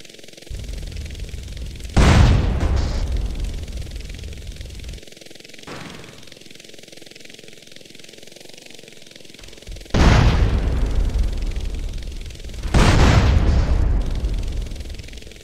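RC bomb explosions against tanks in GTA San Andreas, four loud separate blasts with sharp onsets and rumbling decays, spaced several seconds apart over a low engine drone.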